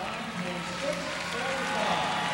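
An arena crowd applauds and cheers at the 2004 U.S. Olympic gymnastics trials after an uneven bars score, a steady dense roar of clapping under a commentator's voice.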